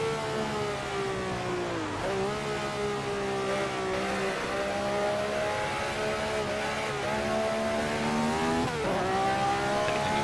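A Ferrari 312/67 racing car in Assetto Corsa screams close by, its engine rising through the gears in repeated long revving climbs, with brief dips at each shift, loud and continuous.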